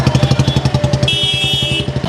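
Motorcycle engines throb in a road safety bike rally in Gulbarga, a loud rhythmic pulsing close by, with a brief higher whine partway through.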